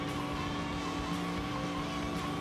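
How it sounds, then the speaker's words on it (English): Tires of Tails' cart squealing in the video game Sonic Adventure 2, a continuous skidding screech layered over steady engine-like game noise, with no voices. "when he's in his cart, it's his tires squealing"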